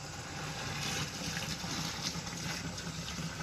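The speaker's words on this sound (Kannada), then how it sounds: "10 ಲೀಟ್ರ್ ನೀರು ಬೆರೆಸಿ" Ten litres of water are poured and stirred into a neem organic pesticide mixture, giving a continuous close splashing and pouring sound with no speech.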